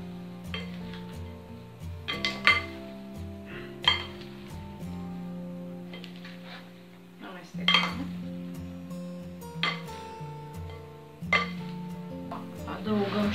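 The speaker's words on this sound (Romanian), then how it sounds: "Amestecăm." A spoon mixes a tuna salad with mozzarella, eggs and boiled wheat in a bowl, giving repeated clinks and scraping strokes at an uneven rhythm, close and clear over a faint steady hum.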